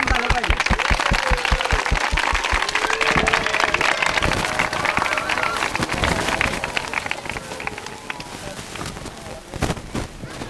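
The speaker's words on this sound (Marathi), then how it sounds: "एकदा जोरदार क्लॅपिंग झालं पाहिजे" An audience at a Hindavi School event in Satara applauds a quiz winner, starting with rhythmic, evenly spaced claps that swell into dense, loud, sustained clapping with voices mixed underneath.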